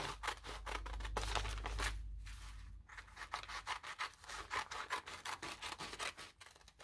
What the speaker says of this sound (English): you're going to take your scissors and you're going to cut down